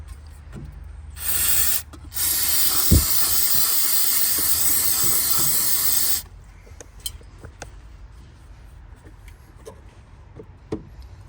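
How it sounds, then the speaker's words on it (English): A steady hissing spray of aerosol cleaner on a 2008 Mazda 3 throttle body and MAF sensor bursts out twice, a short blast then a longer sustained one, close by, followed by quiet rustling. "Spray it down and clean it"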